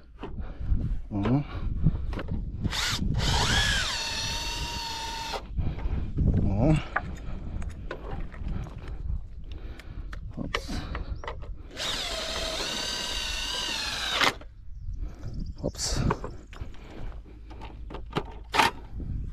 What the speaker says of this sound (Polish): Teraz przywalę dwa te długie wkręty w ziemię.